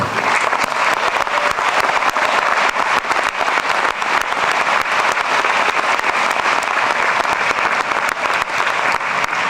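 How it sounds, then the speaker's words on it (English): Loud, sustained applause from a large arena audience at a university doctoral commencement ceremony, a dense wash of clapping that stays steady and unbroken throughout. "Please join me in a round of applause for these very important people."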